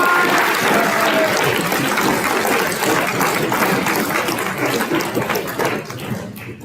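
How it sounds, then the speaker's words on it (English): A school audience applauds after senior speeches, dense steady clapping filling the room for several seconds before thinning slightly toward the end. "Let's give them another round of applause."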